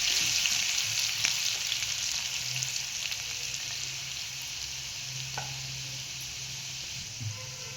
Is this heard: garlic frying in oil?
yes